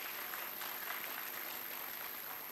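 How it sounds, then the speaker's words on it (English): Applause from an audience celebrating a group of students, a steady broadband patter of many hands held at an even, fairly quiet level throughout. "A very, very big applause for the cohort 1 students for their success."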